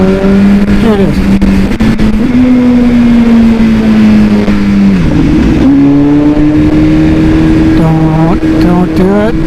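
A BMW S1000RR motorcycle engine revs and auto-blips through downshifts, loud and close, with rising and falling pitch sweeps and sharp throttle blips under the wind.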